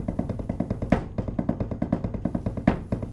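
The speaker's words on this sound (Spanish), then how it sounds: "¿Lo puedes hacer en tu practicador?" Drumsticks playing a sticking pattern on a practice pad: a rapid, even run of sharp taps with two louder accented strokes, close and dry, with no voice over it.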